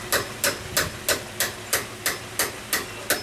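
Eleven sharp, evenly spaced hammer blows on a rusty exterior back door hinge, ringing metal strikes about a third of a second apart, close and loud with no talking.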